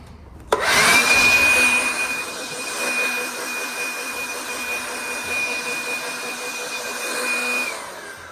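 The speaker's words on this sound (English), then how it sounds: "we're doing it now to blow them off with the leaf blower" A leaf blower starts abruptly and runs as a steady, loud whining roar with a sustained high tone, blowing dust off outdoor tables and chairs before cutting off near the end.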